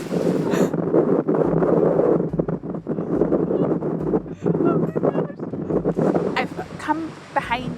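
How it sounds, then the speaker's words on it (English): Strong wind on a Scottish island buffets the microphone outside a cottage in a constant roaring rumble, with a voice partly audible under the gusts. "I cannot believe how windy it is."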